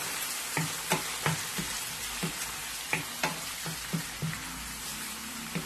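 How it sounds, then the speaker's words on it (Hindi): Yogurt and whole green chilies being stirred together for kofta pulao in a rice cooker pot, making a run of soft, irregular scraping taps and light clinks at close range, with no talk. "इन सबको मैं मिक्स कर रही हूँ"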